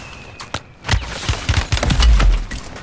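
Sniper gunfire in an online shooter video game. A handful of sharp, booming shots ring out, close and loud, then come in quicker succession toward the end.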